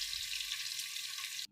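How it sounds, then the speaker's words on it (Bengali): Fish frying in hot oil gives off a loud, close hiss and crackle that runs steadily, then cuts off abruptly near the end. "মাছগুলো ভেজে তারপর দেখাচ্ছি"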